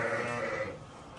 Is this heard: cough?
no